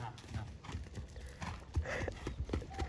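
Horse hooves clip-clop at a steady walking pace, a string of soft close knocks on the ground under quiet background talk.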